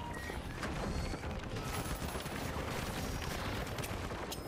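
Gunfire in the shooter game The Finals: dense, rapid bursts of shots blending into a continuous rattling barrage at steady loudness from start to finish.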